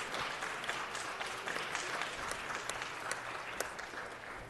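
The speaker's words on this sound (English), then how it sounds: "a round of applause." Audience applause for seniors at a city council meeting, a steady dense clapping from a roomful of people sustained throughout at moderate level, with a few sharper claps standing out.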